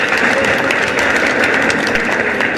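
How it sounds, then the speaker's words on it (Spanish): Applause from an audience at a singing contest elimination round in La Unión as contestant Andrés Valencia is called to the stage, a loud, dense and steady clapping that fills the whole moment. "A ver, un fuerte aplauso para él"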